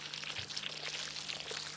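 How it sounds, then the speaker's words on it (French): Water pours steadily around the base of young melon plants being watered, a soft continuous splashing and trickling heard alone at low level throughout. "on arrose autour du pied pendant à peu près une quinzaine de jours"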